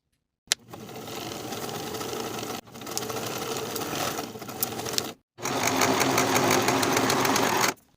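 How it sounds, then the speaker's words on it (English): A sewing machine stitches a 3/8 inch seam allowance on a bow tie top, running in three close, steady bursts of rapid mechanical whirring separated by brief pauses, loud and with no voices. "Pin in place and sew with a 3/8 inch seam allowance"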